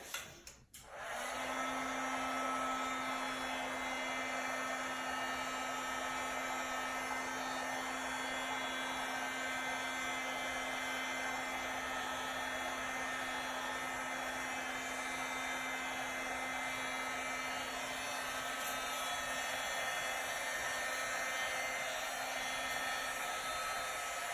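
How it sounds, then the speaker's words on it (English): A heat gun gives a steady, loud blowing roar with a constant low hum, running unbroken for over twenty seconds after a brief click at the start, no voices. "let me hit this with the heat gun real quick"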